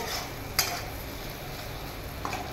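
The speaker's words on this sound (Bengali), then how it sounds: "এবার ঢাকাটা খুলে একটু নাড়াচাড়া করে" Kachkola kofta curry is stirred in a pot once the lid comes off. Two faint, sharp spoon knocks sit over a soft, quiet background.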